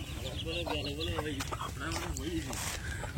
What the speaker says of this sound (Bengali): খাঁটি দেশি মুরগি দেখেন।